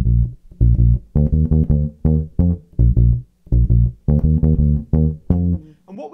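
Reggae bass guitar alone playing a bass line: short, punchy, rhythmic low notes in repeating phrases with brief gaps, close and clear with no other instruments.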